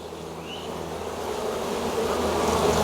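Honey bees buzzing around brood frames at an open hive, a dense, continuous hum close by that swells slightly louder toward the end.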